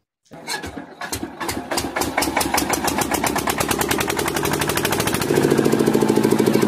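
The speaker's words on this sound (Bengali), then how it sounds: "জেনারেটরটা চালা রে" A generator engine cranks, catches, and settles into a fast, steady chugging run, loud and close, its pulse quickening as it gets going.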